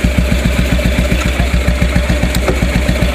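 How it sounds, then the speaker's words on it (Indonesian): A 1956 Norton ES2 350cc single-cylinder motorcycle idles close by. Its exhaust thumps in a steady, even rhythm, with mechanical clatter above it. "Kita hidupin dulu motor ini."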